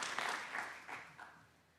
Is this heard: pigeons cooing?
no